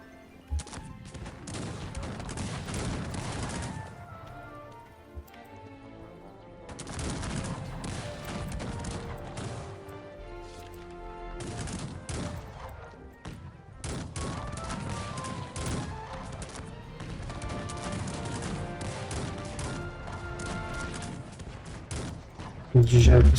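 Bursts of gunfire in the strategy video game Cossacks 3 crackle in dense volleys during a desert battle, pausing briefly between clusters, with clashing impacts and rumbling battle noise throughout.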